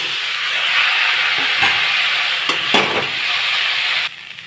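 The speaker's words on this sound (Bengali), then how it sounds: "পটলগুলো একটু ভাজা ভাজা হয়ে গেছে" Pointed gourd, drumstick pieces, ginger, green chili and turmeric fry for a rohu fish curry in a loud, continuous sizzle, with a few spoon scrapes before the noise drops suddenly near the end.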